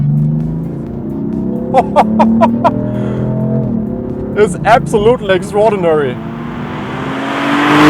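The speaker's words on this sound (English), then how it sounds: "a typical BMW M engine in that respect, something that is very refined and really likes to rev" Engine of a 2015–2016 BMW M4 Coupe F82 revving and pulling hard, loud and close, with someone talking over it in bursts.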